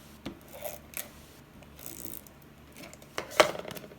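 Scissors trim excess cardstock for a handmade stamped card, a few quiet close snips and rasping slides spread across a hushed room, with one sharper cut near the end.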